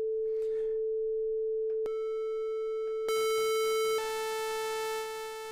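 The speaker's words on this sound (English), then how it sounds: "So there's your sine waves that you can change in between this to generate sound." Sine wave tones generated by the auGEN X synth app on iOS: a steady pure tone that jumps to brighter, buzzier harmonic tones at a few points, then fades slightly, loud and alone.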